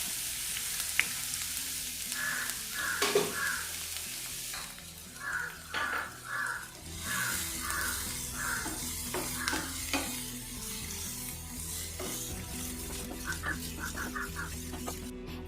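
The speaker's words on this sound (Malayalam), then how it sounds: "ഇതും കൂടി ചേർത്ത് കൊടുത്ത് നന്നായിട്ടൊന്ന് വഴറ്റി കൊടുക്കാം" Chopped onions sauté in coconut oil in a pan, a steady soft sizzle with repeated stirring scrapes and clicks over fifteen seconds, close and fairly quiet, for a beef ada snack.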